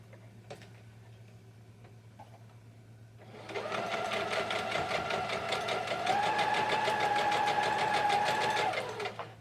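A sewing machine stitches down a seam on a candlestick quilt block, starting after about three seconds with a steady, loud, rapid mechanical whir and tick of the needle that runs continuously to the end.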